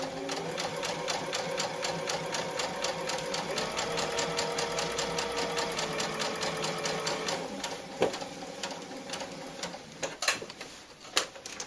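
A sewing machine stitching a cloth doll body, a fast steady run of mechanical ticking stitches, then slowing into short bursts with a few clunks near the end, close and fairly quiet.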